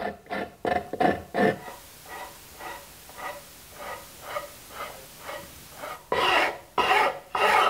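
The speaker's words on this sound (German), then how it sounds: "Die Kante an der Rückseite rundet der Gitarrenbauer mit einer Feile ab." A file rounds off the back edge of an electric guitar body, sounding as a series of close, rhythmic rasping strokes. The strokes are quieter in the middle and grow heavier and longer toward the end.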